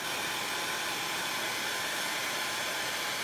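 A hair dryer running on high, blowing steadily and loudly to dry paint on small snowboard artwork, a continuous broadband whoosh with no talking.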